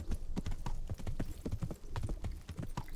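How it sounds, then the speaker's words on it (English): Horse hooves clip-clop at a slow, steady walk in the video game Kingdom Come: Deliverance, a rhythmic run of close, moderately quiet hoof beats with no talking. "this horse is incredibly slow"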